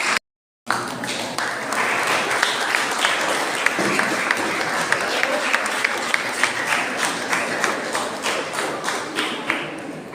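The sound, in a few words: audience applauding school award students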